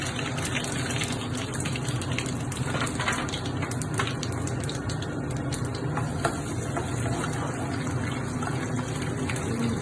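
Peanuts sizzling in hot oil with mustard seeds and cumin for mango rice, a steady crackling fry with occasional stirring scrapes, close and moderately quiet, no talk over it.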